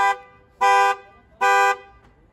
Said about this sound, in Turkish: araç korna ve dörtlerle uyarı veriyor.